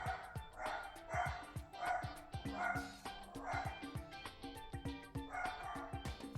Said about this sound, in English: So apologies for the barking in the background.